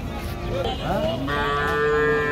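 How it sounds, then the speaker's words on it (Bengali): A Friesian cow lets out a loud, drawn-out moo nearby at a cattle market, rising then holding steady over faint background crowd noise. "কি গরু নিয়ে আইছো? ফিজিয়ান গরু"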